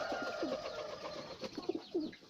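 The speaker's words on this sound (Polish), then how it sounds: "bo tutaj jest dużo gołębi. Latają dosyć często." Pigeons in a coop coo softly in low, throaty bursts against a faint background hum; no wing flapping stands out.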